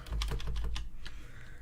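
Keyboard shortcuts are tapped on a computer keyboard while editing in Audacity: a quick cluster of close, soft key clicks, then a couple of isolated taps, with no speech.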